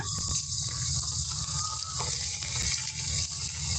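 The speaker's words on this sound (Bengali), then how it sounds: "এই যে বৃষ্টি এই যে মাত্রা কমলো" Steady rain pours outdoors among green trees, a dense, even hiss of falling water that holds at the same level throughout, with no voices.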